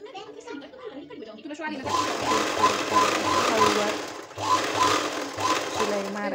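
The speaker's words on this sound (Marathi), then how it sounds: "असं प्रेस करत छान शिलाई मारून घ्यायची आपल्याला" A sewing machine stitching the back neckline of a blouse runs in two steady, loud whirring stretches with a short pause between, after a brief quieter start.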